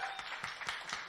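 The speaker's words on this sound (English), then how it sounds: "We're clapping." Applause from an audience at a panel discussion on food waste collaborations, a steady wash of clapping with a few louder bursts, fairly close and without speech over it.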